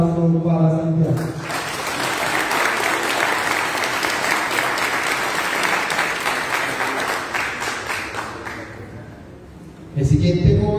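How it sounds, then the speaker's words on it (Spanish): A large audience applauds steadily for about nine seconds at a youth council swearing-in ceremony, the clapping dense and sustained before fading out, with a voice picking up at the very end. "Un aplauso para Santiago"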